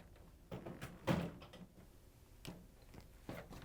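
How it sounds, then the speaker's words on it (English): A trash compactor drawer in a kitchen is pulled out and lifted off its rollers, giving a few separate clunks and knocks, the loudest near the start, with quieter bumps after, no talking. "you'll have to pull the drawer out and lift it off."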